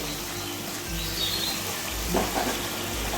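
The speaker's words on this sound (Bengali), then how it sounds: "এখন দিয়ে দিব পটল।" Pointed gourd (potol) frying in a pan with raw banana for a papad curry, giving a soft, steady sizzle heard at low level throughout, with no voices.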